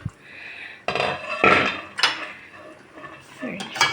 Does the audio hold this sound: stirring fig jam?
yes